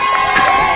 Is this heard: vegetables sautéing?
no